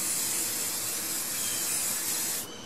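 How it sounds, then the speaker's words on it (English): A continuous hissing aerosol fabric protectant spray blows steadily onto pants for a couple of seconds, close and fairly loud, then stops. "So I'm just going to give this a little bit of a spray here."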